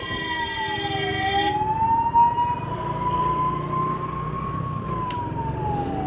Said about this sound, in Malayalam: ആംബുലൻസ് വരുന്നുണ്ട്.